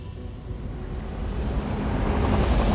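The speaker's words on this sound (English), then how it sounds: "The helicopter, manned by highly trained Sand Parks operatives, arrives within moments" A helicopter approaching over Kruger National Park: a rumbling aircraft-like drone with a faint rhythmic chop, growing steadily louder as it draws nearer, with no voices.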